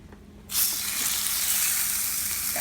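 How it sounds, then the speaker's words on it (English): A quiet moment, then a sudden loud sizzle as pork chops hit a hot cast iron pan, hissing steadily afterward. "When we put the meat in, it needs to sizzle."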